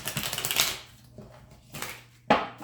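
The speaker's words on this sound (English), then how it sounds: "I have pre-shuffled the deck, again, very well, but I'm going to do it in front of you guys anyway" A deck of tarot cards is shuffled close up in quick, riffling bursts of crisp papery clicks, separated by short pauses.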